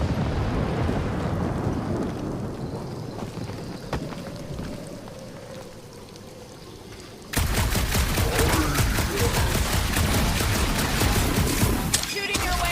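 Gunfire in the Guardians of the Galaxy game: after a quieter stretch of rumbling ambience, a loud, dense barrage of rapid shots erupts abruptly and rattles on continuously to the end.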